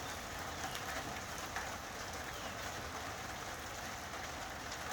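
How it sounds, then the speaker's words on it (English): Rain falls outside in winter as a faint, steady hiss of drops, distant and unbroken, with no voices. "Such strange rain weather as well."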